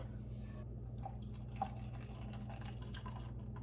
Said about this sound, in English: Pour most of this out,